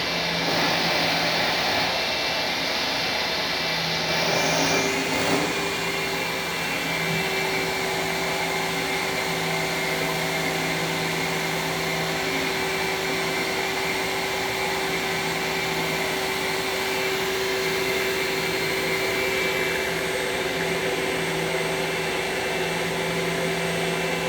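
A La Pavoni Stradivari lever espresso machine pulls a shot, giving off a steady, close mechanical hum and hiss with a faint shift in tone partway through, continuous and alone without any talking.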